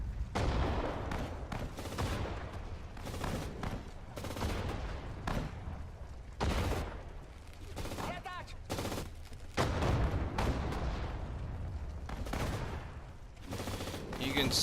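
Light tank fire and infantry gunfire in the Sudden Strike 4 Battle of Sedan, heard as repeated sharp volleys and bursts at moderate distance, with brief gaps between shots and no talking.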